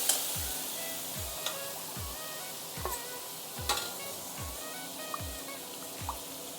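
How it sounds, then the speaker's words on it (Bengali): Poppy seed paste sizzles and spits in a hot pan for a creamy Bengali chicken posto dish, with steady frying hiss and a few louder pops and scrapes, close and alone without voices. "এই যে পোস্ত বাটা, তো আমি এটা দিয়ে দিচ্ছি এখন। দিয়ে ভালো করে একটু কষিয়ে নিচ্ছি"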